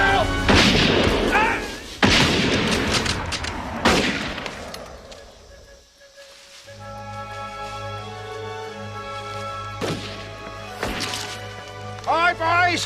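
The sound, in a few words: gunfire and artillery fire in battle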